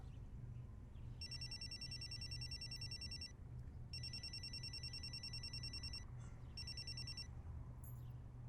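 Telephone rings in three spaced electronic bursts, each a fast trilling warble lasting about two seconds, over a low steady indoor hum, with no voices.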